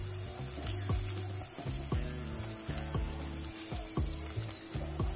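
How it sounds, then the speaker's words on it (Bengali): Bitter gourd slices sizzle steadily in hot oil, with a continuous crackling fry broken by regular scraping and stirring knocks of a spatula in the pan, fairly quiet and close. "আর উচ্ছেগুলো কিন্তু একটু ভালো করে ভেজে নিলে"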